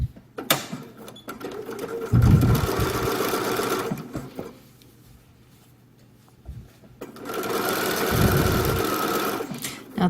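A sewing machine edge-stitches a bias facing in two bursts of fast whirring stitching, split by a quiet pause with a few small handling clicks, fairly close and loud.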